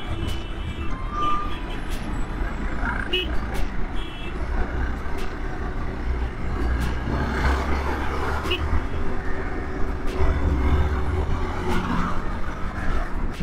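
Dense road traffic on the Shendwa ghat highway, with trucks and cars rumbling past in a constant loud drone, odd clicks and beeps scattered through, and faint speech under the noise.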